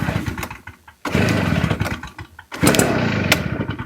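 A Stihl BR380 backpack blower being pull-started with a freshly replaced fuel line, giving bursts of sputtering engine noise that cut out and catch again, two main loud stretches separated by a brief drop.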